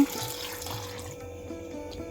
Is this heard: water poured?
yes